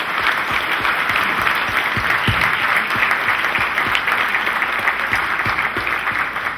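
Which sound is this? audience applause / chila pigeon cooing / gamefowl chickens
audience applause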